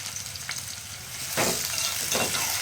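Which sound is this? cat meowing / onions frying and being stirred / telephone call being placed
onions frying and being stirred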